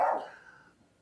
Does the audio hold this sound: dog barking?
yes